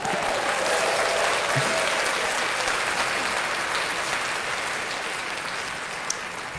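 Dense, steady applause from a studio audience, loud and continuous, holding at an even level with a small sharp knock near the end.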